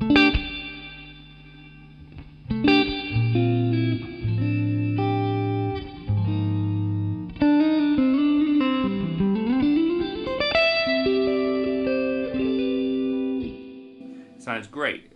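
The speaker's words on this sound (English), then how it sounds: "The reverb designed by Jim Kelly" An electric guitar plays through a Suhr Bella Reverb amp with its built-in reverb, sustained chords and a sliding bend ringing out clean and warm, close and loud, with reverb tails.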